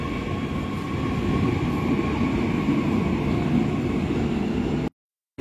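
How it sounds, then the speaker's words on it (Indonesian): A KRL commuter train pulls out of Solo Jebres station toward Palur with a loud, steady rolling rumble that holds for several seconds before cutting off abruptly. "KRL diberangkatkan kembali menuju tujuan akhir di stasiun Palur."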